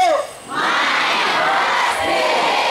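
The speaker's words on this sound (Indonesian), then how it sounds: "anak teriak dari pagi sampai siang ini" A large crowd of children at a pesantren (Islamic boarding school) event shouts together loudly and continuously, a dense roar of voices after a brief opening note.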